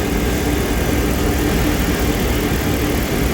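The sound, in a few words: 2011 RAM 1500 5.7L HEMI engine idling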